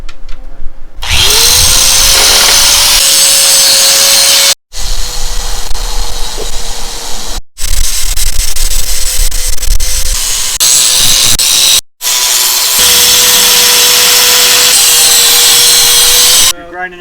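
A power grinder cuts a groove into a weld seam on a steel cradle cart, loud, close and continuous, with a steady high whine broken by a few short pauses as the tool lifts off the metal.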